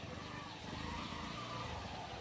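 A Hero Xtreme 125cc motorcycle, a 2024 model, idles with a steady, low engine hum that runs unbroken and fairly quiet throughout, with no voices over it.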